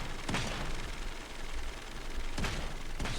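Gunfire in the video game Realm Royale comes as a few sharp, fairly distant shot bursts, one near the start and two near the end, over a constant game background din with no talking.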